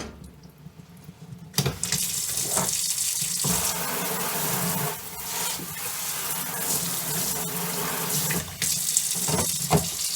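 Tap water gushes into a tub being filled for a rinse on a sheep farm, a loud steady rush of running water that starts abruptly and continues with splashy surges, with no talking.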